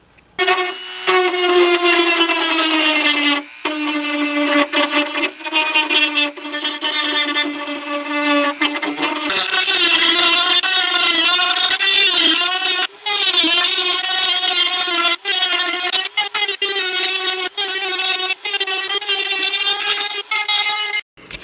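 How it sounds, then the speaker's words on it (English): A carbide cutter grinds into a plastic Ninja motorcycle fairing, a loud, high-pitched rotary whine that rises and falls in pitch as the load changes, with several brief pauses. "It was about 15 minutes of grinding with the carbide cutter to get down into plastic"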